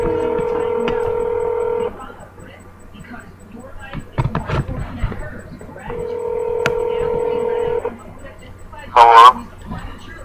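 Telephone keypad dial tones sound as two long steady beeps separated by a gap, with faint talk and rustling between them and a brief higher chirp near the end.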